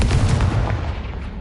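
Confringo fire spell exploding in Hogwarts Legacy, a single heavy blast with a loud boom and rough crackling tail that fades within about a second and a half.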